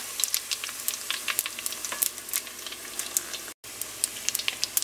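Apple wontons fry in hot oil with a steady, dense crackle of small pops and sizzles that runs nearly unbroken, with a brief dropout near the end.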